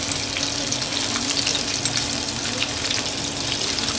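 Chicken pakoras frying in hot oil while being stirred make a loud, dense, continuous sizzle with crackling spatter and faint scraping, close by and uninterrupted by voices.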